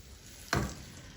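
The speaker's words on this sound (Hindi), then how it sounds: "फिर थोड़ा सा ऑयल डाल देंगे। बिस्मिल्लाहिर्रहमानिर्रहीम। फ्राई पैन अभी गर्म है।" Oil in a hot frying pan bursting into a single sharp sizzle as batter of semolina hits it, a brief loud hiss that quickly fades over a quiet background.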